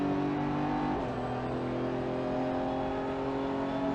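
Race car at full throttle on the Virginia International Raceway track, its engine holding a loud, steady, close drone throughout, with no voices.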